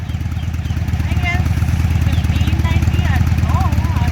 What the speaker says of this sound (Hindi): 2017 Harley Davidson Diana street Bob. ये आती है 1545, अराउंड लाइक 1600 सीसी।